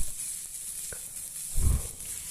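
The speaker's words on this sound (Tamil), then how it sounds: "வெங்காயம்லாம் ரெடி ஆனதுக்கப்புறம் அதை வந்து கல்லை போட்டு நல்லா ஒரு பாதி வேக்காடு அளவுக்கு வேகிற அளவுக்கு நல்லா வதக்கணும்" Onions sauté on a hot griddle pan for an egg omelette, with a soft, constant sizzling hiss and one low thump as they are stirred.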